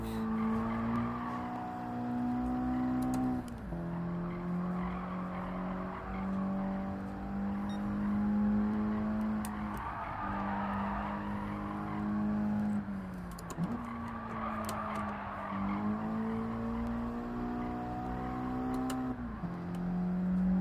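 Gran Turismo 7 race car engine droning and shifting pitch as it brakes and accelerates, with tires squealing and skidding through corners, loud and continuous.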